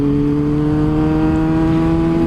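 A Yamaha R6 Raven Edition motorcycle with a loud exhaust holds a steady, deep droning rumble at close range, with no change in pitch and no other sounds.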